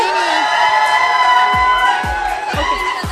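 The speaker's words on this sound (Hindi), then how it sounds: "जोरदार तालियां हमारे स्टूडेंट के लिए" A crowd at a bridal makeover demonstration cheers and whoops loudly for a student. Shrill, sustained shouts carry throughout, and sharp low thumps repeat toward the end.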